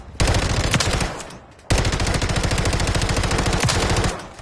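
Rapid bursts of SPAS shotgun fire in Modern Warfare 3 on PS5, a dense rattling volley, a brief pause, then a longer sustained string of loud close shots.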